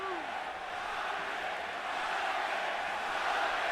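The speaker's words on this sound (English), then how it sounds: "And now the crowd begins to chant for Pacquiao." Boxing arena crowd at Pacquiao vs Marquez III in 2011 chanting for Pacquiao, a dense, steady roar of many voices with a commentator's voice faintly mixed in.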